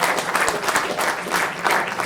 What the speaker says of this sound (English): How about a round of applause for our special guest comedian?